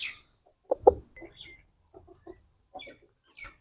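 Short, separated clucks and calls from an Aseel fighting rooster being lifted out of a cage at a farm, a few loud bursts close by, then softer scattered calls with quiet gaps.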